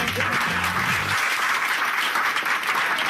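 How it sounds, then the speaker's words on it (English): Audience applauding at a Who Wants to Be a Millionaire audition, dense sustained clapping throughout, with a few tonal voice sounds in the first second before it settles into steady crowd applause alone. "Give yourselves a round of applause."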